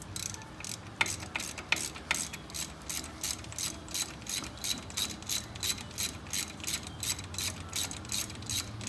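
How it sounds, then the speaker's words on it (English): Rapid repeated ratcheting clicks from a ratchet wrench working on the Brembo brake caliper pins and 13 mm bolt of a Dodge Challenger or Charger, a steady close mechanical rhythm with no talk. "So the two pins I'm gonna get out right here and right here, and then we're gonna move that 13 millimeter bolt"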